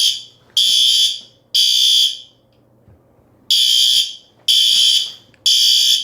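A fire alarm horn strobe blares during a monthly system test, repeating loud harsh horn blasts in a temporal pattern, three bursts, a pause, then three more, close and alone.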